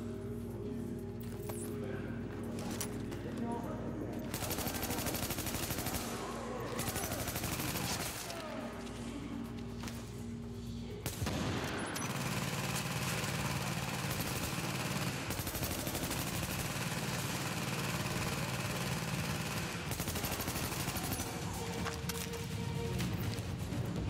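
Gunfire and explosions in The Division, a tactical shooter game: dense, continuous bursts of automatic weapon fire and booming blasts dominate throughout, loud and close, with a brief lull midway before the barrage resumes even heavier.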